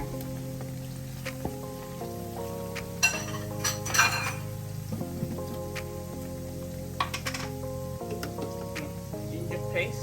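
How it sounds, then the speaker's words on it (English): Bay leaves hit a pan of onions fried for about ten minutes, giving a soft, steady sizzle and crackle with a few clinks of a utensil, while a voice speaks over music playing in the background. "So I'm going to add the bay leaves now."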